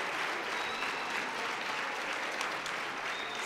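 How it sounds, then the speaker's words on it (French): Sustained, dense applause from graduates at a university communication faculty graduation ceremony, honouring parents and friends; steady and full throughout with no pauses. "donc j'invite les diplômés à applaudir, donc les parents et amis"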